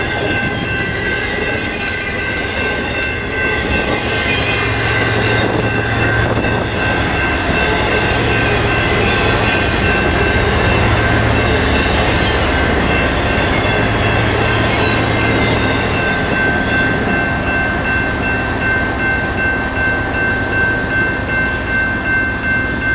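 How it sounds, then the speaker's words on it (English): A BNSF northbound all-rail grain train bound for Minnesota's Iron Range rolls past during a blizzard, a loud, continuous rumble of wagons and wheels with faint squeals and a steady tonal whine throughout. "The Grainer and Meehan northbound all-rail train destined for the Iron Range in Minnesota"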